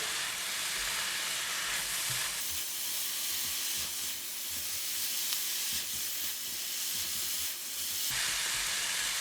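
Bean sprouts stir-fry in a hot pan with a bright, steady sizzle and hiss, punctuated by soft scraping stirs, close and without talk.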